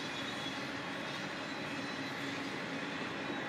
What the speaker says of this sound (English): And the train is still coming by.